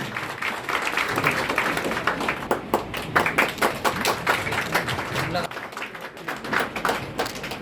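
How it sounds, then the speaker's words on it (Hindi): Seminar audience applauding an honoree at an MSMG Foundation employment event, a dense, steady patter of many hands clapping throughout, loud and close, with voices mixed in. "तालियों में कमी महसूस हो रही है,"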